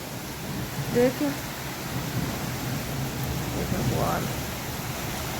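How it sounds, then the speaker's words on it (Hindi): Heavy rain falls at night with strong wind, a steady dense wash of noise throughout. Someone speaks briefly over it, and a faint low rumble rises near the end. "जहाँ की बारिश पड़ रही है"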